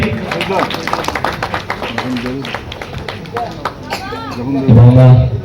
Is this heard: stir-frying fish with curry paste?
no